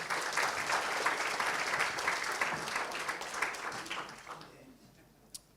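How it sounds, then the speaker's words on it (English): Audience at a breakfast briefing applauds, dense steady clapping that tapers off over several seconds and fades into near quiet with one last sharp sound. "Big round of applause."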